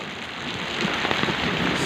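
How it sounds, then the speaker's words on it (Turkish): Heavy thunderstorm downpour over a village, where the square is flooding, makes a dense, constant roaring hiss of rain pounding surfaces, loud and unbroken throughout. "sağanak yağmur var."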